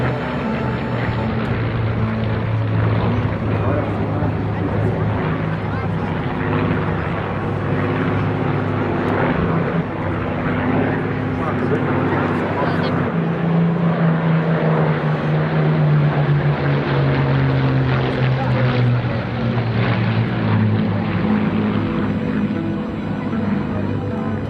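A Bristol Blenheim, a British twin-engine bomber with variable-pitch propellers, flies at the Eastbourne Airbourne 2024 airshow, its propeller engine drone loud and continuous with a slowly shifting pitch as it passes.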